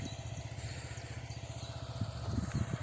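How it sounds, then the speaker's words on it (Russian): A KMZ small tractor's engine runs steadily in a large vegetable garden, a continuous low chugging throb that grows slightly louder and rougher toward the end. "Видите, КМЗ трактик."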